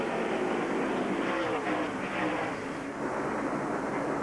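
NASCAR stock cars at full speed, including Mike Wallace's number 12 car, produce a continuous loud roar of engines racing around the track without a break.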